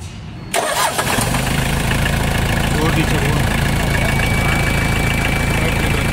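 A Mitsubishi 4D56 turbo diesel cranks and fires within about a second, then settles into a loud, steady clattering idle with a faint turbo whistle, close by.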